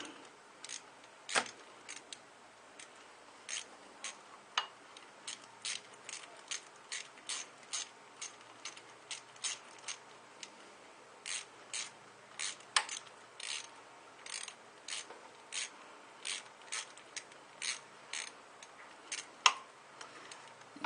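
A ratchet tightens the bolts of a thermostat housing on a 2001 Dodge Dakota 4.7L, sharp rapid clicks in repeated bursts over a long stretch, close and crisp against a quiet background.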